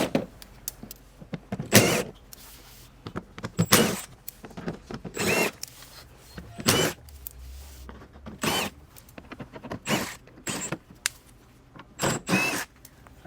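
Intermittent ratcheting and clicking as 10 mm bolts are loosened around the perimeter of an Infiniti G37 Coupe front bumper, short close bursts separated by quiet pauses, with faint handling noises between.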